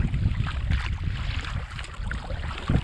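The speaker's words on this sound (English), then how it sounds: "So I'm gonna paddle around out here." Paddling a Sea Eagle Razorlite 393RL inflatable kayak across an open, chilly, windy stretch of Saranac Lake, with paddle strokes and water sloshing under steady wind rumble against the microphone.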